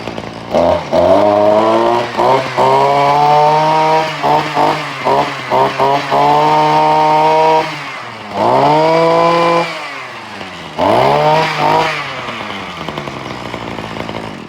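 Two-stroke string trimmer with an upgraded engine revs hard and loud at close range, blipping the throttle in quick bursts, then dropping to idle between longer wide-open pulls; no speech.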